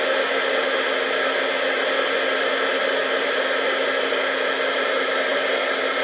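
A heat embossing tool blows a steady, loud, unbroken hiss like a hair dryer while melting embossing powder, close up with no talking.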